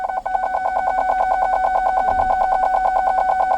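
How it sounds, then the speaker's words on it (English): Parking sensors on a 2010 GMC Yukon SLT beeping in a rapid, even series of clear tonal pips, close and loud, repeating steadily for the whole stretch with a faint low rumble underneath. "As you get closer, it's going to beep."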